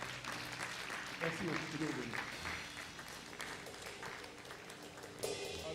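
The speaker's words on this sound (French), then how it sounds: "Est-ce qu'on peut acclamer le Seigneur?" A church congregation applauds in acclaim of the Lord during a French-language worship service, with sustained clapping and some cheering while a voice speaks over it.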